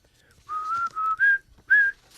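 Someone whistles a short tune in a few clear sustained notes with brief gaps, close and alone with no talking.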